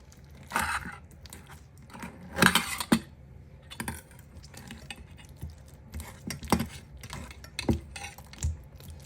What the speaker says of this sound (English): Just use your fork, press it out, because you're gonna make it as like a mousse.